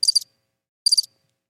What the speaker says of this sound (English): then you got to do the crickets sound effect